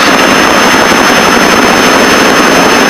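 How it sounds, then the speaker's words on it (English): Piper Seneca twin-engine aircraft in flight on its right engine alone with the left engine feathered, giving a loud, steady, unbroken drone of engine and propeller noise throughout, with no voices. "the left engine is feathered. The right engine is operating."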